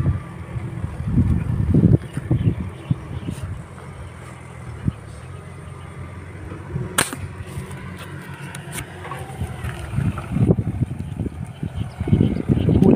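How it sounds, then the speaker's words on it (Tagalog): Strong wind gusts buffet the microphone in heavy, rumbling bursts, easing off in the middle before surging again. "Pero malakas na yung hangin."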